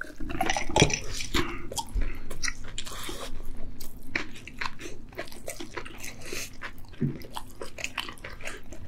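Someone bites into a very spicy fried chicken drumstick, wet crunchy chewing and smacking close to the mouth, with a few sharper crunches standing out over a steady eating noise.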